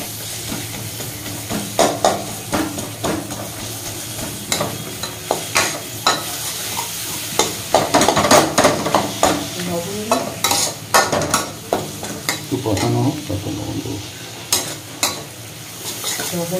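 Chopped tomatoes go into a hot frying pan for a spiced rui fish bharta, setting off a steady sizzle with scraping stirs and clinks of a spatula recurring throughout, close and fairly loud.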